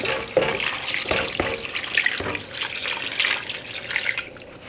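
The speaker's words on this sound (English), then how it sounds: "I'm just gonna pour in some water into the pot." Water pours steadily into a pot from close range, a continuous splashing rush with a few light knocks of cookware.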